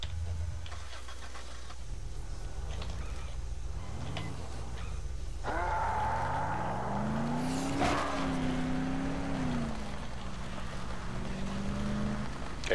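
A car in the video game Dead Island revs and accelerates, its engine pitch sweeping up and down through gear changes, loud and close, with a sharp impact near the middle.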